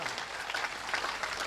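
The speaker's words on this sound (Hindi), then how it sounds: "बस एक बार मेरा मन रखने के लिए तालियां बजा दीजिए" An audience at a Hindi comedy poetry gathering claps in steady, moderately distant applause that continues throughout.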